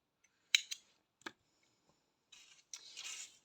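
Scissors snipping crochet yarn: a few quick, crisp metallic snips close by, followed by soft rustling and handling of the yarn, no talking.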